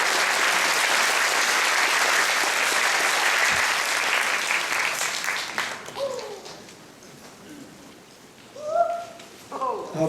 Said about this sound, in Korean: 김홍종 교수님을 큰 박수로 맞이해 주시기 바랍니다.